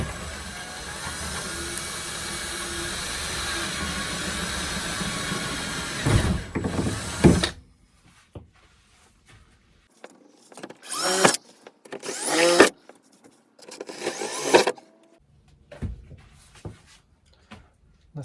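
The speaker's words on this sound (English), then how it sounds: "so just going to drill through into the tin roof" A power drill bores through a tin roof, giving a steady whirring grind for several seconds that stops abruptly. Then come sharp intermittent clatters and bangs of metal, close by, with no talking.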